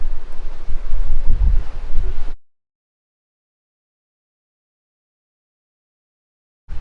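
Strong wind buffets the microphone over rough, breaking seas aboard a sailing catamaran on a coastal passage, a loud roaring rush for about two seconds before cutting to silence, returning briefly at the very end.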